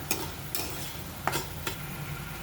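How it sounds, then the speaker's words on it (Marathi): Ginger, garlic and coconut paste roasting in a pan, with a low steady sizzle and a few brief scraping strokes of the spoon as it is stirred, close and fairly quiet, no voices. "आलं लसूण आणि खोबऱ्याची पेस्ट छान खमंग सुगंध सुटेपर्यंत आपल्याला भाजून घ्यायची आहे"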